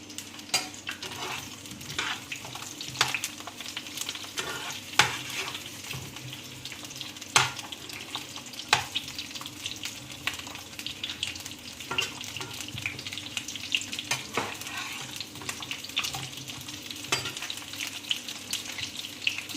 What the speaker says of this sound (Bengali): পটলটা খোসা ছাড়িয়ে নিয়ে আলুটা এইভাবে পিস পিস করে কেটে আমি তেলের মধ্যে ভাজছি